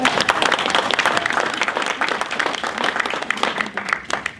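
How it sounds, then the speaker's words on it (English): An audience at a panel discussion on county fire and rescue services breaks into steady applause, a dense wash of many hands clapping in a room that fades slightly toward the end. "Yes, you can applaud."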